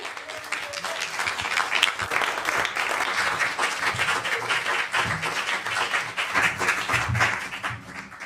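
A concert audience claps for a folk duo in a big round of applause, dense and sustained at a steady level for several seconds, with scattered voices in the crowd.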